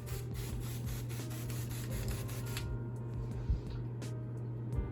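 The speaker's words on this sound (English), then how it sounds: "I'm gonna give the setup another little spray down so the plants don't dry out" A spray bottle mists the plants inside a bioactive crested gecko vivarium in close, repeated hissing bursts over a steady low hum, then stops, leaving faint clicks and handling noises.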